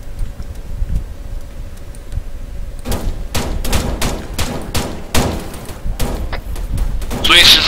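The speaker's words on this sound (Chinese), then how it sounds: "我要开枪" Gunfire in the military shooter game Arma 3 during an embassy rescue mission: after a quieter stretch of ambient noise, a rapid string of loud, close shots cracks out in bursts, ending in a louder blast.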